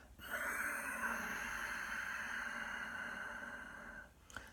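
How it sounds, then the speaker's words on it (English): A single long Ujjayi yoga exhale drawn through the back of the throat makes a soft, raspy, faintly whistling breath that holds steady for about four seconds before fading, heard alone and up close. "that soft, silky, sighing, whistling Ujjayi breath from the back of the throat"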